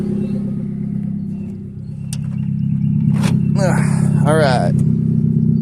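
A 2000 Nissan Sentra engine idles with a steady low hum throughout, while someone talks briefly over it partway through.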